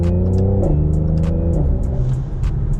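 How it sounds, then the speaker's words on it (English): A car engine revs up and changes pitch in steps as the gears shift through the paddle shifters, loud and close throughout. "So I'm gonna downshift right now."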